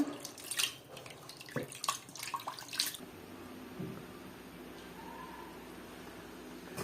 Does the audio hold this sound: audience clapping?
no